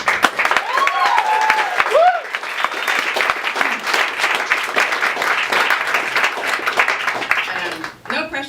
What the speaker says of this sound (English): No pressure to clap each time